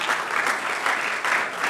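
An audience applauds steadily, a dense, even wash of many hands clapping that holds at a constant level throughout, with no voices rising above it.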